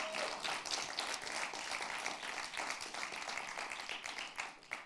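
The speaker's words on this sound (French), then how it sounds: "On peut l'applaudir encore une fois parce que c'est pas facile de passer en premier" Audience applause at a high-school public speaking contest, steady dense clapping from a crowd throughout, moderately distant and heard without any talk.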